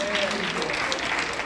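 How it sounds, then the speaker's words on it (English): Church congregation at an old-fashioned hymn fest clapping in praise after songs, steady dense applause filling the room, with a voice briefly audible over the clapping. "Let's give them another hand clap of praise for those beautiful songs."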